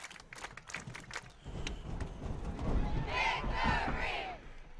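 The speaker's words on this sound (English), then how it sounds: "This crowd's having a great time here in this game." Spectators at a high school football game cheer and shout in a steady, moderately loud roar, with scattered whoops and clapping rising and falling over a few seconds.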